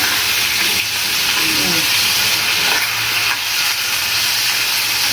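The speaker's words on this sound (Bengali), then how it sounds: "মাছটা ভাজা হচ্ছে" Fresh pabda fish coated in flour frying in hot oil, giving a steady, loud, close sizzle and hiss that runs unbroken for the whole stretch, with no talking.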